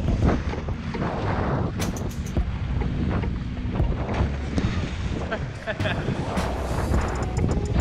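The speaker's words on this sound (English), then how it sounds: "Wind's really picking up." Strong wind buffets the microphone outdoors by the ocean, a constant loud rumbling roar with gusty surges throughout and faint surf beneath.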